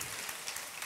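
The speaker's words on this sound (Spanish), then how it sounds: "les pido un fuerte aplauso porque la verdad es que es un artista de aquí de Gran Canaria" Audience applause for a local Gran Canaria artisan at a live cooking demonstration during a regional fair, a short steady patter of clapping heard at a distance.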